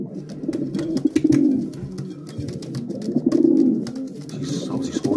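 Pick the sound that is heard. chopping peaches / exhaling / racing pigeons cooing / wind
racing pigeons cooing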